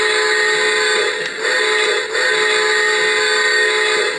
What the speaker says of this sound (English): This will be the whistle.